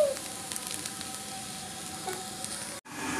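Bhadal frying in a pan gives a soft, steady sizzle that runs evenly throughout, with a brief dropout near the end and no talking.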